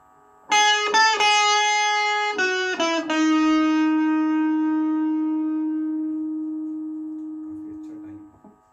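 An electric guitar through a Stranger C15 amplifier with its distortion engaged plays several quick notes, then one note sustains for about five seconds before fading out; close and alone, with no talk.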